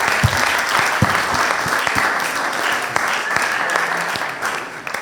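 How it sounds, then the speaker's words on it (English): Applause from an audience at a summit plenary session, dense sustained clapping with a few louder individual claps, steady throughout with some murmuring underneath. "Give him a round of applause."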